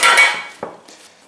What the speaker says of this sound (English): this cheese grater is working well here